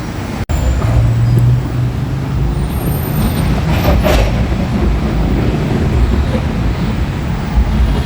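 A skytrain rumbles along its elevated track over Sathorn Road in Bangkok, a loud continuous roar blending with street traffic noise, preceded by a sharp knock right at the start.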